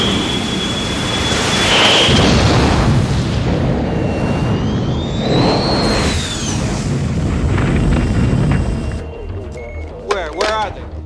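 Fighter jet missile launch and explosion in a film dogfight sound effect, a loud sustained roaring blast with a rising whoosh, then fading into crackling pops near the end, with pilots' radio talk mixed in.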